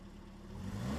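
Restored 1959 Bugeye Sprite engine idling, a smooth, low, steady hum with a slight rise in the last moment, heard alone and fairly quiet.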